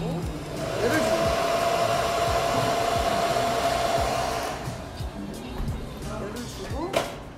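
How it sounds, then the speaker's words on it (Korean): Hair dryer blowing warm air into hair wrapped around a brush during men's hair styling, a steady loud whoosh for several seconds that then cuts out, followed by brief handling knocks and someone speaking. "드라이 바람을 브로코 사이에다가 넣고"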